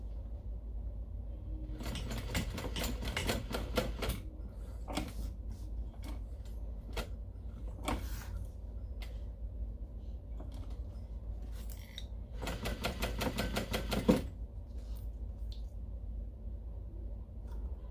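A sewing machine stitches a fabric ID lanyard in several short bursts of rapid mechanical clatter, with quiet pauses between runs and a longer burst near the end.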